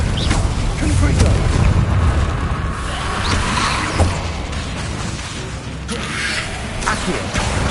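Confringo, an explosive fire spell in Hogwarts Legacy, goes off as a series of booming blasts within a dense, continuous roar of combat noise.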